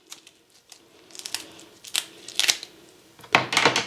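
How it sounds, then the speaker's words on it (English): Several crisp snipping and crunching cuts of scissors through a quail's backbone follow one another irregularly, close up, growing louder toward the end with a cluster of rapid crunchy snips. "we're going to take our scissors and we're going to cut"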